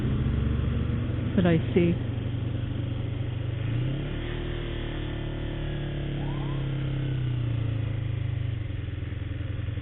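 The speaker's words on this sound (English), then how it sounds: "fire truck and two fire trucks, 2 rescue vehicles" Fire trucks and rescue vehicles roll past on a road, engines droning and swelling as they approach and pass at moderate distance, under someone talking briefly early on.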